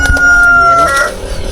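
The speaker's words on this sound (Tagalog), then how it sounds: "May manok din dito." A rooster crows once in a long, drawn-out call that rises and holds before trailing off, fairly close and loud, with faint farmyard noise around it.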